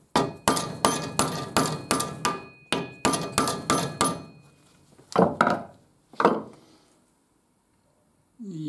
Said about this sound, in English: I hammered the screwdriver in there and the bearing moved up a little bit.